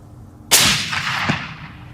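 A single Remington 700 rifle in .300 Win Mag fires at a range, a sudden loud blast followed by a long decaying rumble and echo, with a faint secondary thump a moment later.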